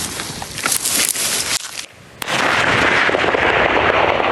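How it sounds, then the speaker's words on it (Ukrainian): A loud outdoor explosion from a military engineering unit's mine demolition: scattered cracks and rumble, a brief lull, then a sudden powerful blast followed by a sustained roar of debris. "Увага, вибух."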